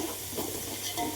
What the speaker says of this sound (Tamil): அரைச்சி வச்ச வெங்காயத்தை போட்டு வதக்கிக்கிடுவோம்